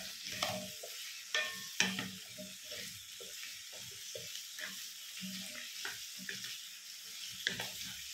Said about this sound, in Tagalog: igisa lang din natin yung ating kalabasa ng konti